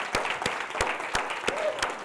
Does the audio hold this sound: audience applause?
yes